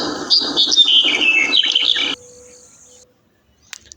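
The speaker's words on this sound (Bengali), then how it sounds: "এখন যেটা আমরা দেখতে পাচ্ছি সেটা হলো ব্ল্যাক হেড বান্টিংয়ের স্ত্রী পাখি। এও মুখে সুন্দর কিন্তু আওয়াজ করে।" A female black-headed bunting gives a loud, close run of bright, rapid chirping notes for about two seconds, then stops; a faint tone lingers before a short, quiet click near the end.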